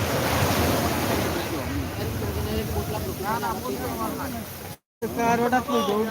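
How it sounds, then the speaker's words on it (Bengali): Incoming tide waves wash onto Cox's Bazar beach at night, a continuous surf roar with wind noise on the microphone, while someone talks over it throughout. "দেখেন আপনারা কি জোয়ার বাটা আসতেছে"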